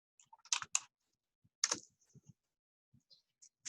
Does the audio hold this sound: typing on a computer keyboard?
yes